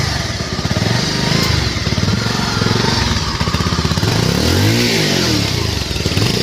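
A motorcycle engine idles close by with a fast, steady putter and a brief rev rising and falling near the end, loud and alone.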